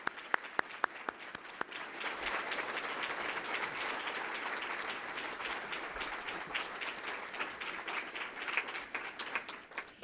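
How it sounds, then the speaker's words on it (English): Scattered individual claps at a downtown civic presentation build quickly into sustained room-filling applause that stays even and continuous, heard from a moderate distance. "please give him a big round of applause"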